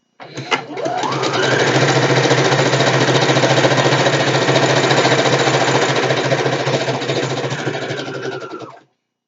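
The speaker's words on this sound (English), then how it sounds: "this will be loud because it is a sewing machine" A sewing machine runs steadily and loudly in one continuous straight-stitching burst of about eight seconds on satin, starting abruptly and winding down at the end.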